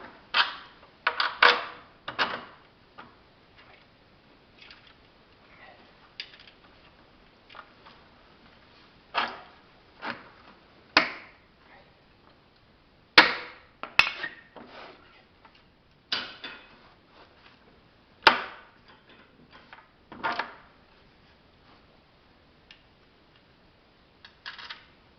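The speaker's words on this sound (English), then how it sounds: "In with the bolt, got 2 washers on, 2 more washers for the far side, and a nylon lock nut." A ski is bolted onto an all-terrain vehicle using washers and a nylon lock nut, producing scattered small metallic clicks and taps close by, with irregular pauses between them.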